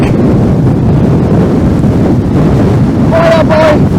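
Strong mountain wind on the Rax Alp roars steadily and loudly across the microphone, buffeting it throughout, with a brief whistling tone near the end.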